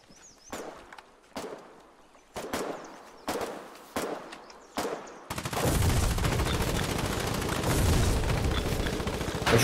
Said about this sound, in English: Machine gun, machine gun.